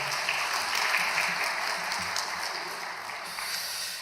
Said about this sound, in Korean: 우리 환영의 박수할까요?